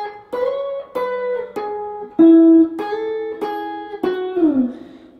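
Clean electric guitar plays a lead line, a run of about seven ringing single notes with slides and bends, alone with no talking.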